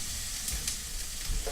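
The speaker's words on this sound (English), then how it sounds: "those onions are cooking with those herbs" Onions and herbs sizzling in a pan, a continuous close hiss and crackle with a few brief louder pops and light scraping, no talking.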